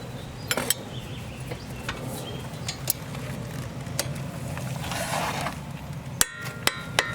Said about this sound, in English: You gotta hold the nut with the wrench and use the socket to unscrew the bolt